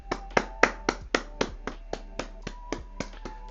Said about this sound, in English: we need to give ourselves a round of applause.